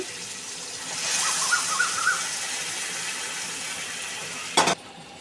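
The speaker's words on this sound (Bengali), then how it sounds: "এখন গরম জল দিয়ে দিচ্ছি" Hot water poured into a pan of frying soybean curry with potatoes and spices, a rushing pour and hiss building then settling into a simmering sizzle, ending with a brief clatter.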